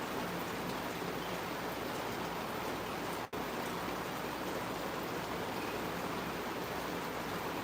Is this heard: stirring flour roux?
no